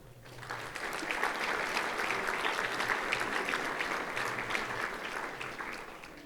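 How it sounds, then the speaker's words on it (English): Applause at the British Beacon Mosque Awards swells in within the first half-second, then runs as a thick, steady wash of clapping from the seated audience before easing slightly toward the end. "A round of applause for you."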